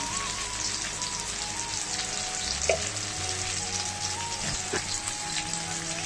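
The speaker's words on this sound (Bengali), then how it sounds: "সব কিছু আগে ভালো করে কষিয়ে নেব" Chicken and chana with turmeric, Kashmiri chili powder, hot chili powder and salt sauté in a pan, giving a steady, close oil sizzle with occasional stirring clinks throughout.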